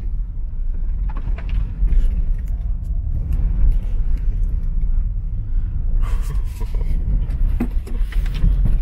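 A 2020 Land Rover Defender drives off-road along a green lane, its engine giving a steady loud rumble with tyre and body noise throughout, plus some brief knocks and clatter.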